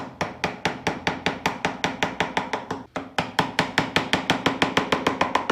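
A chisel is tapped steadily into wood while carving a diamond pattern, a close, even series of sharp knocks at roughly four per second, with one brief pause midway.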